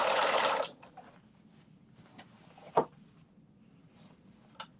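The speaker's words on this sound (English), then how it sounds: "so we are now sewing the front to the back for the lining." A sewing machine stitches the front of a New Look 6741 dress to the back lining in one loud, close whirring burst under a second long, followed by quiet fabric handling and a light knock.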